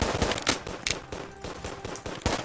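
Several guns shooting in a tower defense video game, a dense, rapid patter of shots layered together, loud and continuous throughout.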